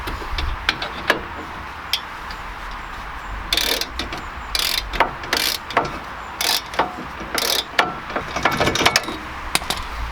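Repeated ratchet clicks in short bursts as a hand ratchet tightens 14 mm bolts on the front brake caliper bracket of a Mazda MX-5, close and crisp with pauses between strokes, no talking.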